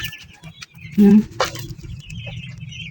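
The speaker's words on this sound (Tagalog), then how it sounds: "Ito na manok." A hen gives a short burst of clucking over steady low rustling and background noise, close by and brief, in a backyard.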